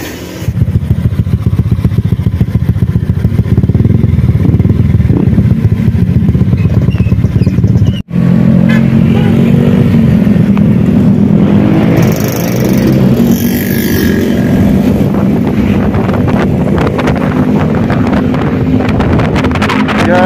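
Several motorcycles idle and rumble together before a group ride to Dieng, a steady loud engine drone under heavy wind buffeting on the microphone, with a brief cut and the revving continuing afterward.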